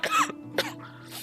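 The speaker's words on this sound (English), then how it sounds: "that was an actual cough, by the way" A single person coughs twice in quick succession, close and fairly loud, with a brief throaty rasp trailing after.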